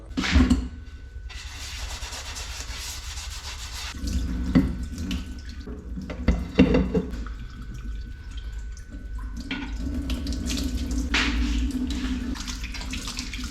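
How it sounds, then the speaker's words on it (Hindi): Running tap water splashes steadily into a sink as kitchen items are washed by hand, with brief clatters and shifts in the flow partway through, close and fairly loud with no talking. "ये मैंने धो दिया है और ये भी धो दिया है यहाँ पे"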